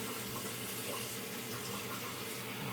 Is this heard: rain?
no